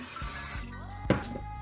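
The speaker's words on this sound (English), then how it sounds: "I'm going to do a little spritz of my spray wax" A short spritz of spray wax from an aerosol can onto hair during a 1940s victory rolls styling, a brief hissing burst near the start followed by quieter handling sounds.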